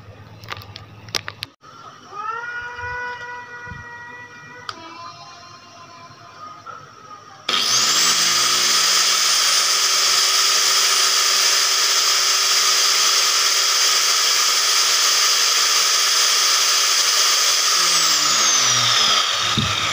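A JLD 950-watt, 220-volt electric marble cutter, a handheld saw for ceramic, marble and granite, spins up at about 7 seconds into a loud, steady high-pitched whine that holds evenly, after quieter clicks and a brief lower hum.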